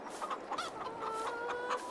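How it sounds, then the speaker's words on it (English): Chickens clucking in Farming Simulator 22, a short run of bright, choppy calls, one rising into a drawn-out squawk, fairly faint and with no voices. "The biggest change is the fact that I've added chickens over here as well."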